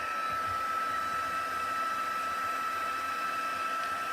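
A hair dryer blows to dry paint on a mixed media canvas, a loud, steady whirring roar that stays constant throughout, close up with no talking.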